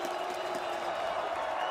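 A loud stadium crowd roars steadily at an FCS championship quarterfinal football game between Stephen F. Austin and Montana State, a dense and continuous wash of cheering with no breaks.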